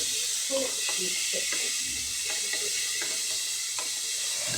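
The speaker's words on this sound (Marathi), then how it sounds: "कांदा हा व्यवस्थित तेलामध्ये आपण आता परतवून घेत आहोत." Onions being sautéed in oil in a pan for egg curry, a steady sizzle with frequent stirring scrapes and clicks, close and continuous.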